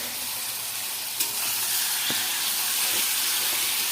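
Onions and tomatoes frying in a pan for chicken fry, with a loud, dense, continuous sizzle close by and a couple of soft stirring knocks.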